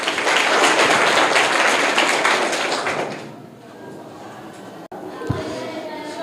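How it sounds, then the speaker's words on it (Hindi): Schoolchildren in a Bihar government school clap hard for a correct quiz answer, a loud, steady wash of applause lasting about three seconds before it dies away into quieter room sound and voices. "जोरदार तालियां"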